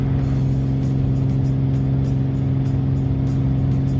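A V-Tail Bonanza piston engine runs at full power on the takeoff roll, a steady, loud drone with strong low harmonics that holds constant throughout with no pauses.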